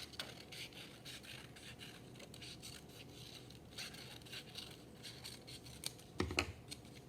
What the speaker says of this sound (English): And now we're going to cut out the circle.